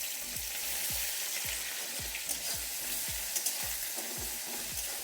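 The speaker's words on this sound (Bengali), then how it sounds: "পেঁয়াজটা একটু লাল করে ভেজে নেব।" Chopped onions fry in a pan for a lotus stem sabzi, giving a steady, close sizzle broken by rhythmic stirring scrapes about every half second.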